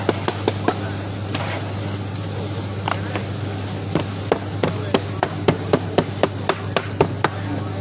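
Repeated pounding with a mould at an elephant temple in Thailand, a series of sharp, fairly close knocks in an irregular rhythm, some in quick clusters, over a steady low hum and faint background activity.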